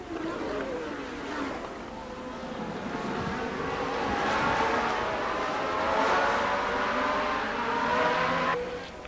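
1981 Formula 1 race cars roar around a circuit in a steady, broadband engine howl that swells and fades as they pass, with a dense, continuous, loud drone throughout.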